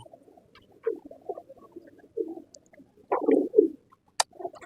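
Soft, low cooing from black Indian pigeons in short repeated bursts, close by, with a brief sharp sound near the end; no talking.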